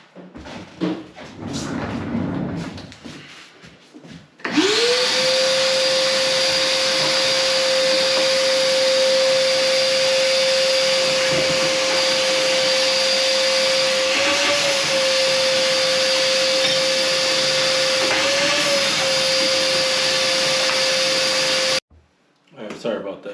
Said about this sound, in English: Give me the belt sander.